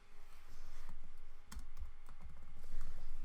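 Rapid typing on a computer keyboard while entering text in GIMP, a steady close run of soft key clicks with a few louder taps.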